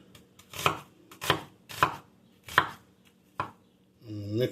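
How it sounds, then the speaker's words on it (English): A knife chops onions on a board in five distinct, evenly spaced strikes, close and crisp, followed by a brief voiced sound at the end. "breaking down my onions"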